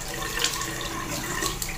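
Tap water runs steadily from a faucet in a bathroom, a continuous broadband hiss and splash that stays even throughout, with no voices.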